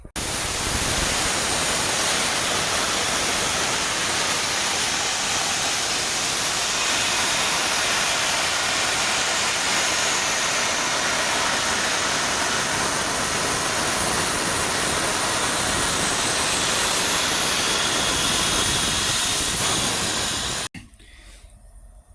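A torch or plasma cutter slices a driver's side part from half-inch steel plate for a Jeep steering hydro assist, a loud, continuous roaring hiss lasting about twenty seconds before cutting off abruptly.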